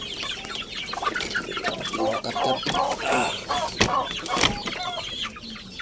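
Soft peeping and chirping of newly hatched turkey poults, several overlapping calls close by, with a person speaking briefly among them.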